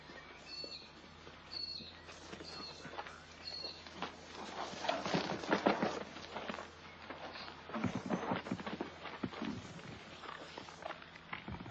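A foal's hooves clop and shuffle across a livestock yard in an uneven walking rhythm, with scattered knocks and a few faint bird chirps, close and moderately loud.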